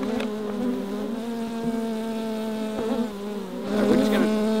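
Honeybees buzzing steadily and close while being transferred from an old box into a Flow Hive, a continuous droning hum with a few brief louder swells, no voices.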